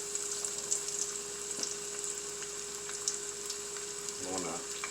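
Flounder fillets fry in a pan over low heat with a soft, steady sizzle and faint crackle close by, ending in a brief splash of movement.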